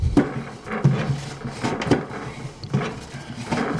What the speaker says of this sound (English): that drawer is now sliding much more easily